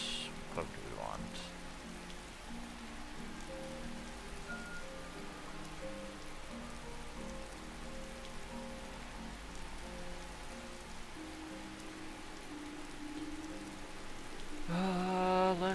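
Quiet, steady rain falls in the video game Skyrim, a soft continuous patter under faint background game music, swelling slightly louder near the end.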